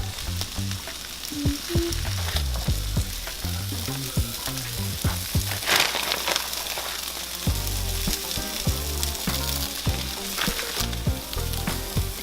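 Vegan cheesesteak filling sizzles loudly and steadily in a hot pan as vegan cheddar and Trader Joe's mozzarella go in, with frequent close clacks of stirring and no voices.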